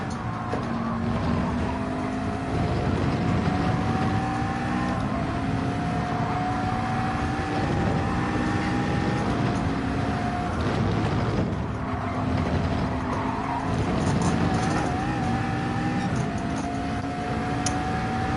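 A McLaren 650S GT3 race car in Gran Turismo 7 at Road Atlanta drones steadily with a strong engine tone, its pitch rising through the revs and dropping at gear changes, loud and continuous with no talking.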